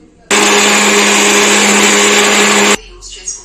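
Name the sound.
mixer grinder blending batter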